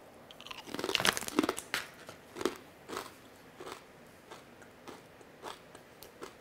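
Someone chews vegan root chips close to the mic, giving loud crisp crunches at first that settle into a slower run of softer, evenly spaced bites, with no talking.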